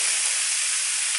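Pork for sweet pork stir-frying in a hot pan, giving a loud, unbroken hiss of sizzling oil throughout.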